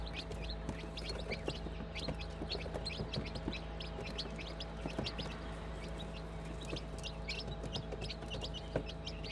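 Young chicken chicks and quail chicks in a brooder give off a continuous scatter of soft high peeps and chirps over a steady low hum, fairly faint and with no talking.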